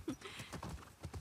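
Horses' hooves clip-clop in the video game The Last of Us Part II, a brief run of quick, fairly close hoof strikes over soft game ambience.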